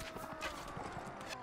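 Horse archers' hooves in Mount & Blade: Warband, a faint, quick clip-clop of several horses muffled under the general battle noise.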